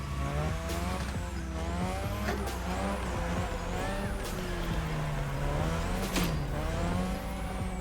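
A car drifts around a drift track in The Crew Motorfest, its engine revving in swooping waves while tyres squeal in long, loud slides, with no talk over it.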